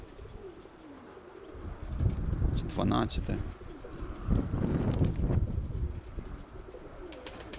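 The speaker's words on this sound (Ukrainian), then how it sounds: "Я покажу зараз ці голубки" Domestic pigeons in a breeding loft cooing, soft repeated low coos close by, while someone talks over them.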